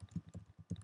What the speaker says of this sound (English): I'll just type in something basic here.